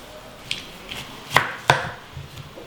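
A knife cuts through a muskmelon on a board, giving a few sharp, close strikes: two soft taps, then two louder chops in quick succession, followed by faint scraping.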